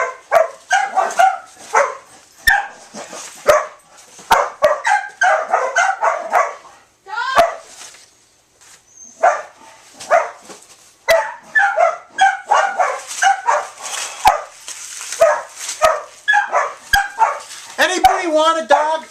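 Several dogs bark and yip in quick bursts, loud and close, with short whimpers mixed in and brief pauses between volleys.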